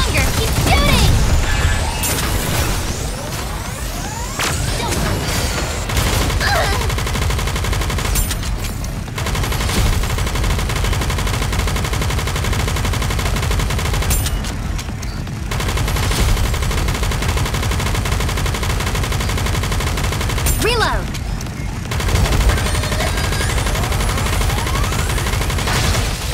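Rapid, continuous gunfire in a raid battle of Goddess of Victory: Nikke, loud and dense almost throughout, with mechanical clatter and a few brief lulls.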